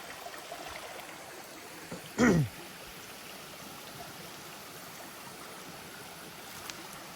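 Water trickles and flows steadily through quiet forest, a continuous soft rush with one brief louder splash or knock partway through.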